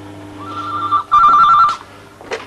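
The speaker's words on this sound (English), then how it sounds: "Your phone's ringing, Mr. Baldwin." A telephone rings loudly and close by in a late-1980s British home, two electronic trilling bursts followed by a brief clatter as the receiver is handled.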